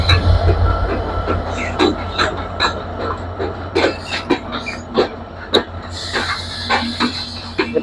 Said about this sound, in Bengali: রংপুর এক্সপ্রেস ট্রেনের পূর্বেই নাটোর রেল স্টেশনে প্রবেশ করে গেল দ্রুতযান এক্সপ্রেস ট্রেন।